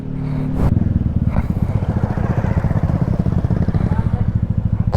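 A Yamaha Aerox scooter engine revs hard while riding off-road over mud and river-crossing trails, a loud, continuous pulsing drone with rapid throttle surges and some clatter, close to the rider with voices talking over it.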